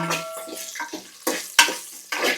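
Green chillies sizzle in hot oil in a pan while being stirred for a ridge gourd peel dal, with scraping strokes and crackling bursts heard up close.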